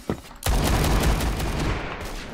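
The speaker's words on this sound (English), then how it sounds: "It's a lot of firing over there." Gunfire in the first-person shooter game Phantom Forces: after a short burst, heavy sustained shooting breaks out and continues as a dense, rumbling roar of overlapping shots.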